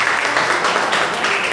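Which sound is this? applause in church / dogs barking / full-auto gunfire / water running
applause in church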